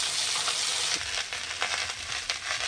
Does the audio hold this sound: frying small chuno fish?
yes